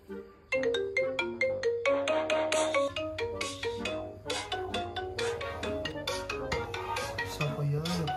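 A phone ringtone plays at night, a bright repeating melodic tune ringing loudly and continuously, with a low steady hum underneath.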